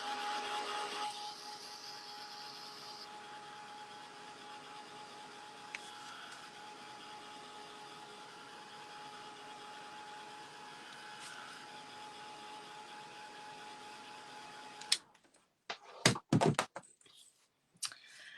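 A handheld heat tool blows a steady, loud whirring hiss while drying ink on a stamped card, running continuously before cutting off, followed by a few sharp clicks and taps.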